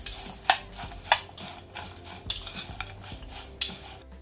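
A utensil stirs a vegetable mixture with amchur powder and chilli flakes in a pan, making close, sharp metallic clinks and scrapes at irregular intervals over soft background rustle.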